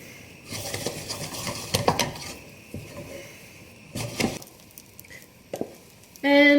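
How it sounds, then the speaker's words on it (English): Wooden spoon mixing choux dough in a pot, with a series of irregular knocks and scrapes against the pot sides, moderately loud and close, ending in a brief bright clatter. "So just keep mixing until all of that flour and liquid is combined."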